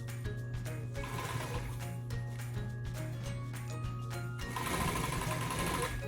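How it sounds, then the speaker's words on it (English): Home sewing machine running a stitch along a marked line in fabric, a steady close mechanical hum and rattle that grows louder and busier toward the end, no talking. "sew on the line, making sure your edges are still lined up"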